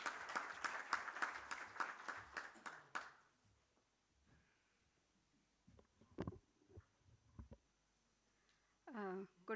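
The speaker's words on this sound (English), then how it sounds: "Everyone, a huge round of applause for the lady, please." An audience at a conference applauds as a keynote speaker is called to the podium: about three seconds of strong, rhythmic clapping, then near-quiet with scattered faint knocks and a brief voice at the end.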